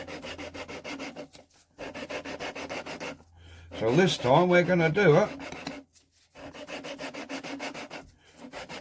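Deutz engine valves being hand-lapped with coarse grinding paste, a steady rhythmic rubbing rasp repeating in short bursts, close and fairly loud, with a voice speaking over the middle stretch.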